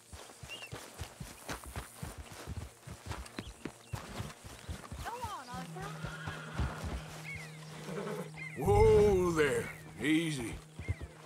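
A horse neighs loudly in Red Dead Redemption 2, with a strong whinny late on, over clip-clopping hooves and footsteps, while voices talk throughout.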